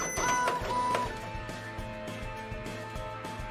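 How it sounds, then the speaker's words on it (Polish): Printer running in the Toy Tinker Simulator game, printing stickers: a steady mechanical whirring with repeated rhythmic clicks and a faint tonal beep near the start, moderately loud, with no talking. "W drukarce 3D musimy wydrukować brakującą część, której już nie dostaniemy nigdzie, prawda?"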